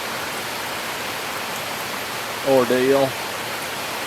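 Rain from an evening thunderstorm falls over a garden as a steady, even hiss throughout, and a voice briefly speaks over it partway through.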